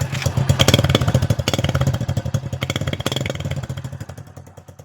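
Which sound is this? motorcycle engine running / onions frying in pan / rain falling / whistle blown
motorcycle engine running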